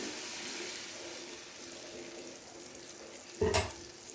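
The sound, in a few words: frying ginger garlic paste with yogurt in pan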